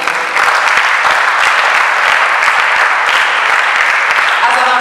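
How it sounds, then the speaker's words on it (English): An audience applauding student ambassadors at a ceremony, dense steady clapping throughout, loud and close. "And you clap for them."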